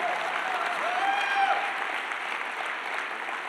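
An audience at a motivational speaking event applauds steadily, a dense, fairly faint wash of clapping with no talking over it.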